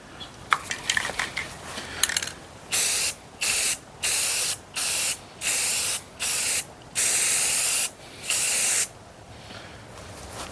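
Rust-Oleum matte hammered black spray paint hissing from a can in about eight short, evenly spaced bursts, close and loud, after a few faint handling clicks.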